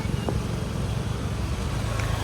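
Car cruising along a road, a steady close engine and road rumble heard from inside the vehicle.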